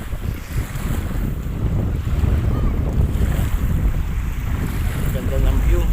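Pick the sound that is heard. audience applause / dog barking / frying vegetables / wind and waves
wind and waves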